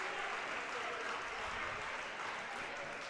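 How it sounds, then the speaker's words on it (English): South Allegheny fans applaud the substitutes at a WPIAL boys basketball game, a soft, steady wash of crowd clapping in a gym, faint and blended with background crowd noise. "the South Allegheny faithful with a nice round of applause for these Gladiators"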